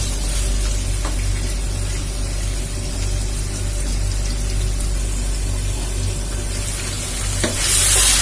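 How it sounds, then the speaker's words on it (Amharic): Carrots and onions frying in a pan for a cabbage and potato dish, a dense steady hiss of sizzling with faint stirring, close and loud throughout, with no talking. "ካሮታችንን ሽንኩርታችንን በደንብ አድርገን እናበስለዋለን"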